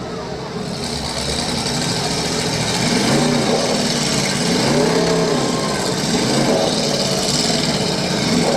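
A demolition derby car's engine running loud and close at the track, a steady raspy roar with slowly rising and falling revs, under a continuous crowd and announcer din.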